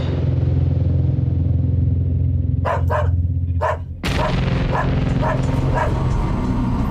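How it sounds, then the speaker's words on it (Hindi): Several sharp barks from a dog, a pair and then a few spaced ones, over a steady low hum and background noise. "भौंक रहा है, जाकर घुमा कर ला इसे"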